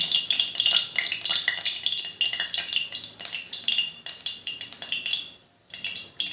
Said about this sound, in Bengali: গাওয়া ঘিটা এখানে 2 চামচের মতো দিলাম।